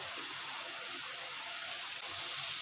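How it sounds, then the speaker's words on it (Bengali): Ginger-garlic paste for a shrimp curry fries in a pan with a steady, fairly quiet crackling hiss that sounds much like light rain. It runs without a break and no one speaks. "এই যে এখন দেখেন পেস্টটা একটু ভেজে নিচ্ছি, একটু ভেজে একটু বাদামি কালার করে নিতে হইব"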